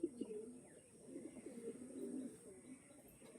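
A lively, restless pigeon gives soft, low coos in short repeated phrases, close but quiet, with a faint steady hiss behind it.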